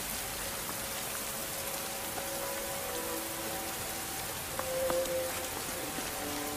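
Rain falls steadily as a soft, even hiss with no break, fairly quiet and diffuse, with a few faint tonal sounds underneath.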